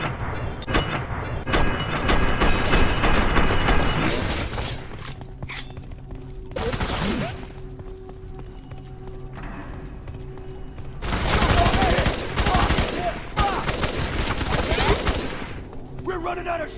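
Sustained gunfire in the first-person shooter F.E.A.R. 3, with bursts of automatic weapons and overlapping shots forming a loud fusillade that swells and drops over a rumbling combat backdrop, with shouted voices mixed in.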